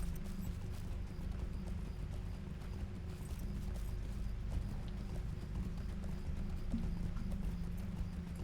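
Horse hooves clip-clop in a steady, continuous rhythm during swift travel in Lord of the Rings Online, backed by a low rumbling layer. The sound is fairly close and runs without talking.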